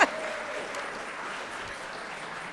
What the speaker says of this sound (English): Applause is not in my notes, but I love it